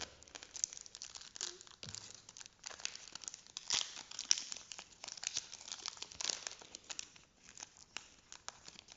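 Crinkling and tearing of Yu-Gi-Oh booster pack wrappers as the packs are opened, a steady run of close, dense plastic rustles and crackles with no talking.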